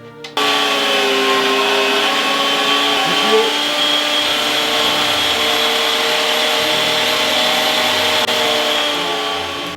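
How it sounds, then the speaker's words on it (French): A food processor minces duck breast (magret), giving a loud continuous motor whirr with a steady pitch that runs nearly unbroken for about ten seconds after a short start. "maintenant on hache le magret ici, machine tourne"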